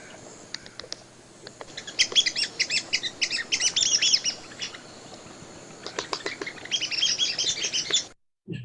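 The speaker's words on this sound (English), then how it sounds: "I'm here to talk about the red cockaded woodpecker today, and it's a small black and white bird." A red-cockaded woodpecker, a small black-and-white bird, gives rapid bursts of high, squeaky chirping calls in two clusters, moderately close with faint background ambience and scattered clicks.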